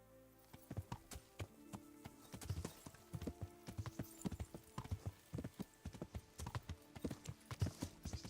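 Horse hooves in a video game clip-clop in a quick, steady rhythm, close and clear, continuing throughout with no voices.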